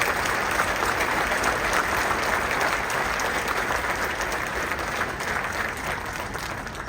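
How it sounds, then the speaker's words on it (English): An audience at a Waynesburg Central winter band concert applauds in a full, steady burst of clapping that fills the room and eases off only slightly by the end. "how about giving them a round of applause"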